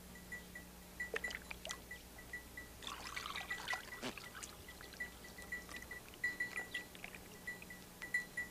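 Muddy drinking water poured through a strainer, a faint trickling and dribbling with intermittent splashes and drips over a quiet background.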